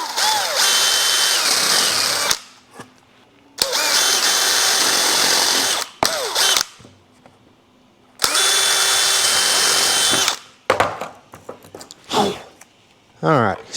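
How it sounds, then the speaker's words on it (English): A power drill fitted with a Snappy Bits countersink bit bores through wood in three long, loud whirring bursts separated by short pauses and brief handling noises, with someone speaking at times. "Drilled my hole all the way through and gave me a countersink at the same time"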